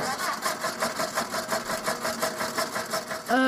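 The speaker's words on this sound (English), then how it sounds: "The engine went." A cartoon car engine sound effect sputters in steady rhythmic chugs, loud and close, just before the car breaks down; a voice begins right at the end.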